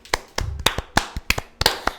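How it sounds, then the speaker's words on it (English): Scattered, sparse clapping from a small group of hands on a podcast, about a dozen separate sharp claps at uneven intervals, close and fairly loud. "Let's a round of applause for Ron."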